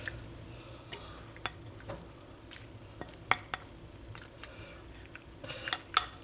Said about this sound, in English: Let me give it another stir.